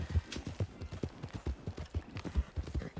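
A donkey ridden along in Red Dead Online gives steady, rhythmic clip-clop hoofbeats, close and even-paced, with no other sounds standing out.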